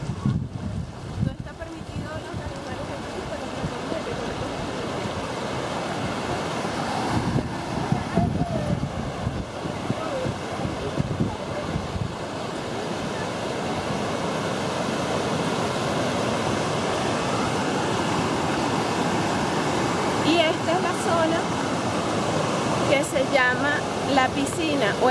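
Water pours steadily onto rocks at a natural rock pool in Gran Sabana, Venezuela, a loud continuous rushing splash that fills the whole stretch, with faint voices now and then beneath it.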